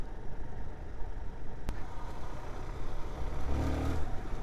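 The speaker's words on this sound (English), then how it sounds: "I can blip the throttle pretty good, and I will get what I would call intake noise" Suzuki DR-Z4S motorcycle engine blipping its throttle, a throaty intake bark rising briefly near the end over a steady idle rumble, close up.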